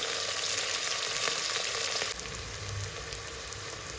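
Shallots frying in hot oil in a kadai for quail biryani, a dense continuous sizzle that eases slightly partway through, with a few faint stirring clicks.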